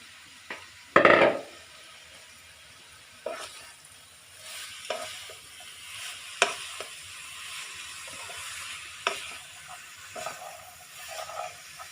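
Grated carrots fry in desi ghee in a pan over a raised flame for carrot halwa, giving a soft continuous sizzle with scraping stirs and occasional clinks of a utensil against the pan, close up and without talk.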